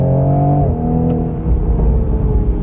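Tuned 2020 Toyota A90 Supra with no other mods: a loud engine drone that holds steady, shifts down in pitch, then keeps pulling as a rough, rumbling roar.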